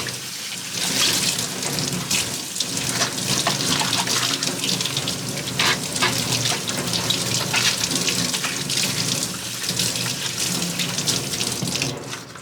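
An outer cabbage leaf is rinsed under a running kitchen tap while making miso soup, with water gushing steadily and loudly into the sink throughout and no talk.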